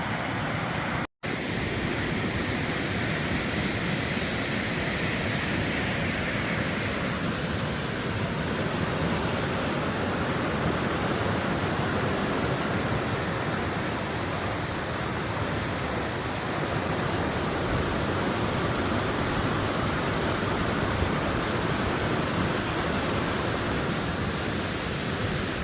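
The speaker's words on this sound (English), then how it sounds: "enjoy the peaceful sounds of the waterfall" Waterfall beside the Appalachian Trail, a loud, dense, unbroken roar of rushing water filling the scene close by, steady throughout with no voices.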